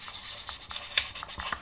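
A 1/24 scale MPC General Lee model car body is gently rubbed down to remove imperfections, giving close, soft rasping strokes in an irregular rhythm with no talking.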